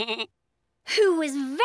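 A goat bleats in a children's animated story, a short cry, a brief pause, then a longer wavering bleat, loud and close.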